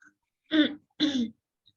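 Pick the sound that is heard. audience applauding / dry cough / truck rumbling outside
dry cough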